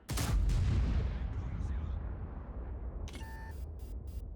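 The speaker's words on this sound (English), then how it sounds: "He's going to shoot this guy and finish him off." A single heavy cannon shot from a tank in a video game, a loud close boom at the start that rolls off into a long decaying rumble, followed by a few short electronic beeps.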